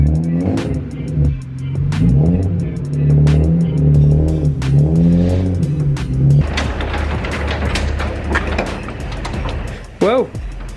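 An old BMW car engine running and revving loudly, with rising and falling engine tones, then a rougher stretch of driving noise, with someone talking over it.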